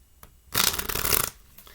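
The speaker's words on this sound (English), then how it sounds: "And we'll turn it over and do one more shuffle." A deck of playing cards riffle-shuffled once during a card trick, a dense close burst of flapping card noise lasting under a second, with quiet handling before and after.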